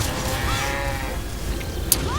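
A cow moos in the video game Dragon Nest, a drawn-out bellow with sliding pitch over steady game background noise, plus a brief sharp click near the end.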